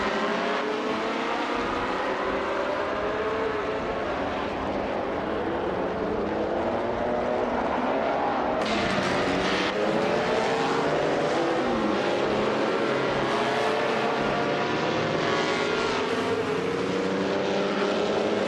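Racing cars in a video game, Cooper T53s running ahead of Maserati and Ferrari machines, sustain a loud, continuous engine drone throughout, with pitch sweeps as cars accelerate and pass close by.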